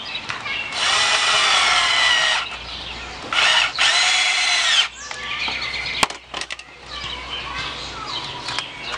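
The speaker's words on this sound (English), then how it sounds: "I'm going to put 2 screws into this board." A power drill whirs in two long bursts driving 1 5/8 inch screws into a cedar board, followed by clattering handling noises, close up.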